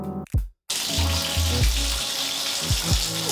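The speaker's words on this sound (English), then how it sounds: "Okay, now I'm just gonna wash them off in the tub with lukewarm water." Lukewarm water runs steadily from a bathtub tap as houseplants are washed off, a loud, continuous hiss and splash after a brief cut, with occasional low thumps.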